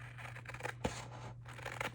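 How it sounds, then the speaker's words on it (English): Scissors cutting paper ephemera, soft snipping and rustling at close range, one sharper snip in the middle, quiet with no talking. "And I am going to cut it out."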